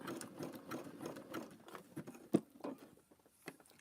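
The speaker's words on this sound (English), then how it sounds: "the needle will sew it down like that" A sewing machine stitching a batik fabric rope bowl, short bursts of rapid close needle chatter that stop and start, with a small knock partway through, no talking.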